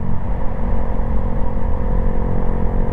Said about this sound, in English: It's a small sport touring bike. It's 125 cc, 124.